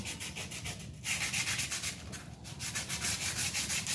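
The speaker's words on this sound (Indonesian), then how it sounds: "Nah, bagian piringan juga perlu diamplas." Rough, rhythmic sanding of a Toyota Innova brake disc with coarse sandpaper, steady back-and-forth scraping strokes close up, continuous throughout with no voices.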